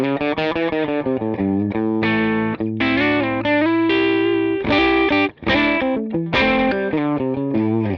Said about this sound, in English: I am playing my Gibson Les Paul Standard 60.